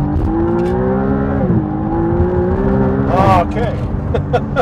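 A 2023 McLaren Artura pulls onto a toll road under steady engine drone, its pitch dipping and then climbing, heard from inside the cabin with a sharp burst near the end and people talking throughout.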